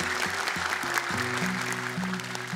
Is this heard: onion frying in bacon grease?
no